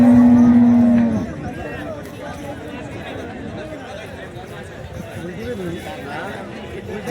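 A cow lows once at the start, loud and steady for about a second, at a busy cattle market in Chalisgaon, followed by crowd chatter and people talking throughout.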